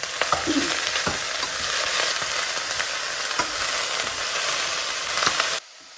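Chilli powder being stirred into a dish frying in a pan, a loud continuous sizzle with repeated scraping strokes of the spoon, cutting off abruptly near the end.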